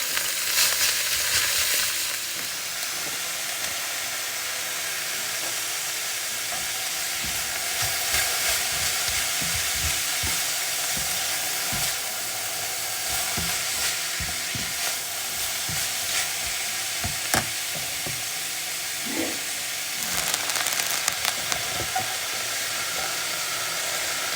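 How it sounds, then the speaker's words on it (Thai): Ingredients stir-fried and seasoned in a pan in a workplace kitchen, with a steady sizzle and hiss running throughout and frequent scraping, clattering stirs of a utensil against the pan. "ผัดผัดให้สุกก่อนนะคะ"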